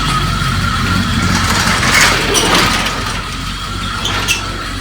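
A 1986 Corvette engine, being revived and recently worked on at the spark plugs, idles with a steady, close, low rumble and continuous mechanical hum, with no voices over it.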